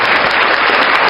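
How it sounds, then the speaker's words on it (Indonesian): A short burst of steady audience clapping, dense and even throughout, in a morning talk session welcoming a guest. "Kita aplaus dulu ya."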